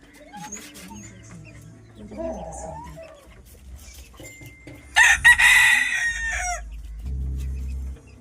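Native country hens with their chicks cluck near and clear, with a loud burst of squawking midway and a low rumble underneath.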